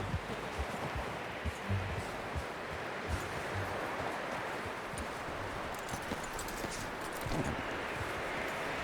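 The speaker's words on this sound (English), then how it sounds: "You should really tether that horse, Arthur." Horse hooves clip-clop steadily through a Red Dead Redemption 2 scene, over a constant wash of rustling outdoor ambience.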